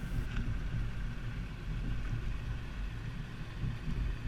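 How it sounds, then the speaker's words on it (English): A 2012 Nissan Versa fitted with a Yakima FullBack 2 bike rack rolls over alternating speed bumps, giving a steady, loud low rumble of road and wind noise with a few soft thumps. "Now we're at the alternating speed bumps."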